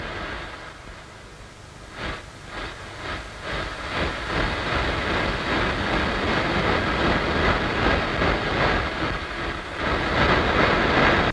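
A cartoon-style train runs along, its steady rumble and rhythmic clickety-clack building slightly louder over several seconds, with a hissing wash throughout and no voices.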